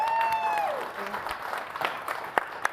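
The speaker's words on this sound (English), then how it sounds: "a big round of applause for Kylie Clark" An audience applauds a co-host, an MBA student, at a speaker series event; scattered clapping with a few sharp claps rises after a brief cheer or tonal sound at the start.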